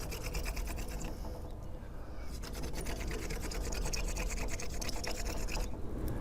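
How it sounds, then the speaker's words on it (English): A drill bores through a bead held in a sandstone holder, giving a continuous rapid scraping, rasping grind. It is close and steady throughout, with brief dips in intensity. "you can put it in a sandstone holder, and then that way you can keep drilling it and it'll hold the bead in place"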